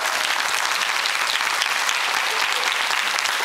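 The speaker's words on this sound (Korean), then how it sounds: "박수 한번 주세요." A studio audience on the 2003 KBS quiz show Quiz Korea breaks into loud, dense, continuous applause that holds at an even level from start to finish.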